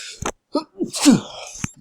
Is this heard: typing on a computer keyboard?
no